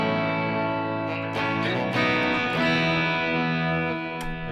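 Clean, bright electric guitar through a Headrush MX5 worship patch, sustained ringing chords with a few strummed attacks, moderately loud and alone.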